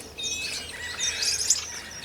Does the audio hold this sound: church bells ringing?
no